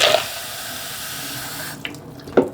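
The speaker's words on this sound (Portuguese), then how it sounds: "eu gosto sim de lavar mais uma vez a brita no momento que eu vou usar para fazer o plantio" Tap water runs steadily while rinsing gravel (brita) before planting Catasetum orchids, a continuous close splashing rush that cuts off partway, followed by a couple of brief wet clunks.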